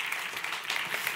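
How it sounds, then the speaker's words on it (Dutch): Applause for Minister Christianne van der Wal as she comes on stage, a short, even patter of clapping from an audience, soft and somewhat distant. "mogen we een groot applaus voor minister Christiane van der Wal"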